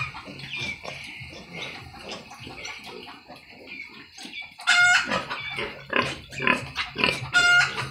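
A crossbred F1 mother pig and her four-week-old piglets grunt and squeal close by in irregular bursts, with sharper high squeals toward the end and some scattered clucking fowl in the background.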